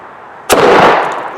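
A 3D-printed can cannon fires with one sharp, loud blast that cuts through a quiet outdoor setting and then trails off into a lingering rumble.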